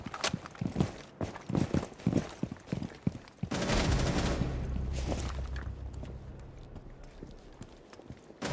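Suppressed rifle fire in the Rainbow Six Siege game, a string of quick muffled shots in uneven bursts, followed by a louder sustained rumbling blast that fades out slowly.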